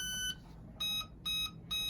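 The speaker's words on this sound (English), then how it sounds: "it will make a beeping noise" Mini Apprentice S RC plane gives high electronic beeps after its battery is plugged in: four short, evenly spaced tones, clean and close, with no talking.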